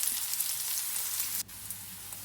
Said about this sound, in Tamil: இதை சேர்த்து நல்லா வதக்கி விட்டுக்கலாம் ஒரு 3 நிமிஷத்துக்கு.